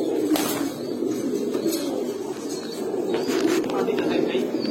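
Grizzle pigeons cooing, a pair for sale, their low continuous murmuring coos running close beneath someone talking, with a few sharper rustles.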